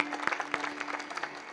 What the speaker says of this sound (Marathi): यांच्यासाठी एकदा टाळ्या वाजवा.